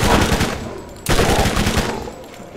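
Rapid, dense SMG fire in the shooter Borderlands, loud and close, a sustained rattling stream broken once by a brief pause before a second long burst.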